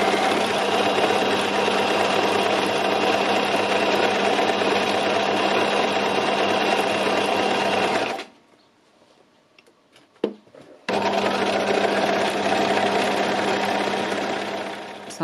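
A sewing machine stitches lace in steady, close bursts of rapid mechanical whirring, stopping for a few seconds of near silence with a couple of clicks before running again.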